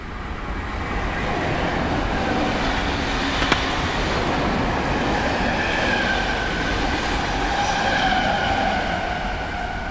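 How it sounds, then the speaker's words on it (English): A train rumbles along at speed, a continuous loud roar with faint high wheel squeals drifting in and out and a single brief click. "While the train is still in motion"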